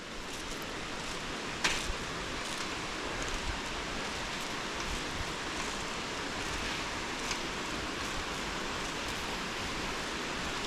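A waterfall in a Costa Rican rainforest park rushes below a rickety suspension bridge, a steady broadband roar with faint scattered creaks and taps on top.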